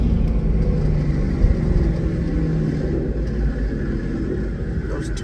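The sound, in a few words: cammed twin turbo Ford GT500 downshifting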